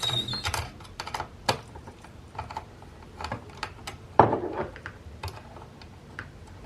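A screw being loosened and removed on an MFJ-945E antenna tuner, a series of faint, irregular close clicks and small metallic ticks with a few sharper taps, no talk.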